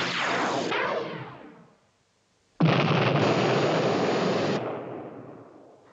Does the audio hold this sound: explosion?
yes